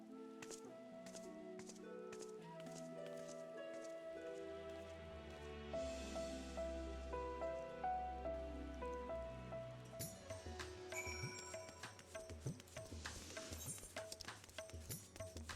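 Rain pattering in Final Fantasy XIV, a soft steady patter under layered game music that turns busier and more percussive partway through.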